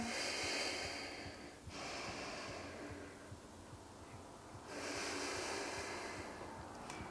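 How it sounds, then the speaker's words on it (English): Deep breaths during a yoga back bend, two long slow inhales with audible airflow, each swelling and then fading, close and quiet with no talking. "Big inhales. Let's take 3 more."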